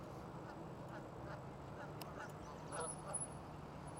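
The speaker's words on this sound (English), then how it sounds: "Feeding the ducks." Ducks quack intermittently in the background over outdoor ambience and faint distant voices, a few short calls clustering toward the end.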